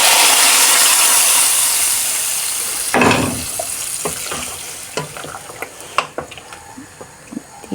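Garlic dropped into a hot pan for a sour fish curry with ginger and jamir lime, starting with a loud steady sizzle that eases off, then scattered scrapes and clinks of stirring, with no voices.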